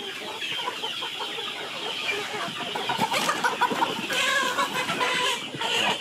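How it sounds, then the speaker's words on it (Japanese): Many chickens cluck continuously at a poultry farm on Negros Island in the Philippines, a dense, close flock chatter with no talk. "フィリピンのネグロス島にあるとある養鶏場。"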